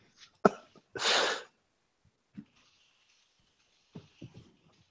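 One sharp sneeze bursts out close and loud after a short intake of breath, followed by brief quiet vocal sounds and faint background noise.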